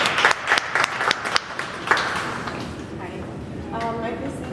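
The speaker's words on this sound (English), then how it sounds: "Give us a round of applause." Scattered applause from an audience at a business networking event in Hamilton, a few brisk claps that quickly thin out and fade, followed by faint talk in the room.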